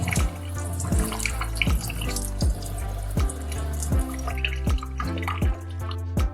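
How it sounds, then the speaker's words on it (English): Tap water pours through a homemade watering can made from a bottle with a holed cap and a balloon, a steady splashing stream with rhythmic gurgling pulses roughly every second. "Put the construction on the tap. Turn on the water, you've made a homemade shower watering can."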